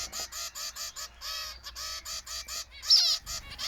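Rapid, repeated high-pitched begging calls from a zebra finch chick wanting food, insistent and steady, with one louder squeaky burst near the end.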